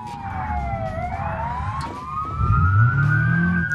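Several police sirens in the video game BeamNG wail and sweep in pitch, overlapping from different directions, while a car engine rumbles up louder near the end.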